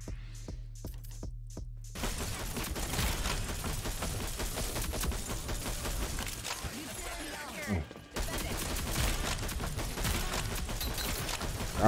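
Rapid video-game gunfire rattles in dense, continuous bursts after a brief rhythmic intro, with a short pause near the end before the shooting resumes, while a player talks over it.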